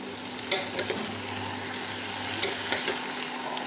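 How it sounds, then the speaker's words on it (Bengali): Potatoes with spices being sautéed in a pan give a steady sizzle broken by a handful of sharp spatula scrapes and taps against the pan. "এইগুলো সব কিছু দিয়ে এবার ভালো করে আলুটাকে দিয়ে কষাতে থাকবো"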